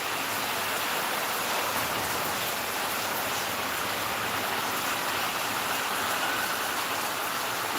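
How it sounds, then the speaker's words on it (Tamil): Heavy rain pouring down steadily, a dense continuous hiss of falling water spread across the whole stretch, close and fairly loud with no let-up and no voices. "ஆமாப்பா, நல்ல மழை, பெரிய மழை."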